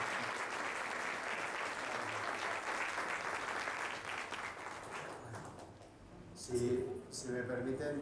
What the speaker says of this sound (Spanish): Yo les pediría un aplauso más a Mario